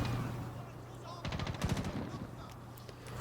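Rapid turret gunfire in Medal of Honor Tier 1 bursts out in a dense, fast volley at mid-clip, loud against a steady low in-game hum, then tapers into scattered shots.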